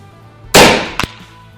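A single sharp shot from an FX Dreamline Power Pup 5.5mm air rifle, loud and close with a quick decaying tail, followed about half a second later by a short metallic clank.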